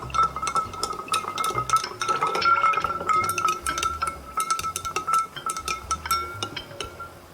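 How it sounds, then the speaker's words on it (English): A clear ice sphere clinks and knocks against a glass while an old-fashioned is built directly in it, giving crisp, close, irregular taps over a faint steady background tone. "I like to build my old-fashioned directly in the glass."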